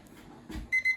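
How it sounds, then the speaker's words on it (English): Kitchen timer going off for cooking rice, two short high electronic beeps in quick succession, close and clear after a faint kitchen noise. "That's our timer going off"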